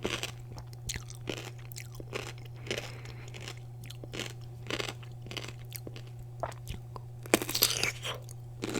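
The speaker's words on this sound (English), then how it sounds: "It's a garlicky pickle." Close, crisp bites into a garlicky pickle followed by moist chewing, with steady crunches throughout and a brighter crackly burst near the end.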